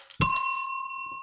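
A single bicycle bell rings once, sharp and close, its bright metallic tone ringing on and fading slowly with no voices over it.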